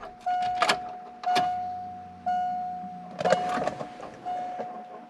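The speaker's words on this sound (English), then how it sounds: "I can hear the pump engaging back there" Fuel pump on a Subaru Impreza GF8 engaging at startup after replacement: a steady electric whine that switches on and off several times, with clunks and mechanical clicks between bursts, close and fairly loud.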